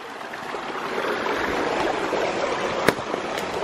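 Water flowing steadily down a small creek beside a ram pump intake, heard as a constant close rushing and gurgling wash with one brief splash near the end.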